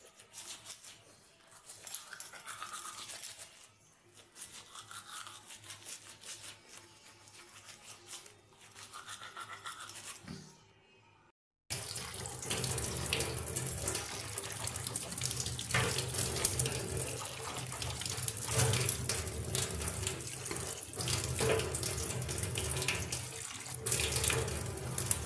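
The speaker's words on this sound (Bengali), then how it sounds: "বন্ধুরা এবার একটু দাঁতটা মেজে নেবো।" Teeth being brushed at a running bathroom tap, water splashing into the sink steadily, with a quieter stretch of brushing before the flow grows louder and continuous.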